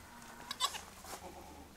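Bleats from a heavily pregnant goat giving birth, a few short cries clustered near the middle, fairly close and moderately loud over quiet background.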